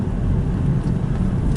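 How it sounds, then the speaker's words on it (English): Steady low rumble of a parked car's engine idling, a car with a Connecticut plate, heard nearby as a continuous drone with no speech. "Connecticut plate. And the car is running."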